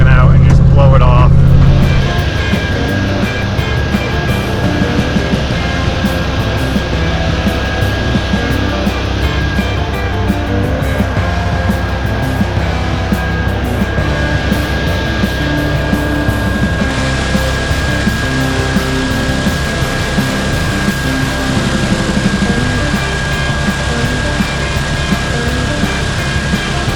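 A car lapping an asphalt race track gives a continuous, loud engine drone with a sustained tonal whine that holds steady across the laps after a short burst at the start.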